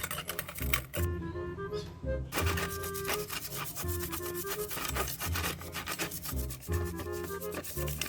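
Brush scrubbing on a Bianchi mountain bike part, rapid rhythmic rubbing strokes close up, mixed with a few metallic clinks and brief pauses between bursts.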